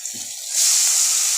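Water hits a hot pan with a short soft splash, followed by a loud, steady sizzling hiss that keeps going on its own.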